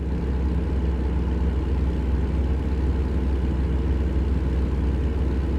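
Heavy truck engine in a driving game on a Louisiana cruise, a steady, unbroken low rumble with a slight hiss, loud and constant throughout.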